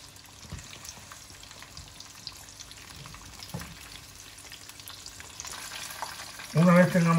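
Chicken pieces frying in oil, a soft continuous sizzle with a few faint crackles, swelling near the end as a voice briefly speaks over it.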